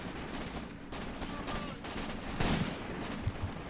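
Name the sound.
close gunshots in the video game Graviteam Tactics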